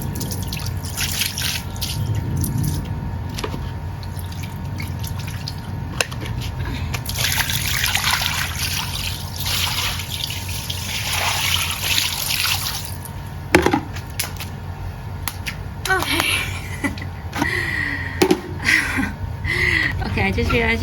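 Water trickles and drips while a dirty, unmaintained dog is rinsed, a continuous splashing flow with occasional louder splashes, close by, mixed with a person talking.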